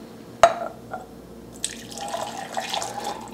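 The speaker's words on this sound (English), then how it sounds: "I'm going to pour this right into my just glass measuring cup" Homemade maple syrup pours into a glass measuring cup after a sharp knock, a soft liquid trickle and gurgle that rises in the second half.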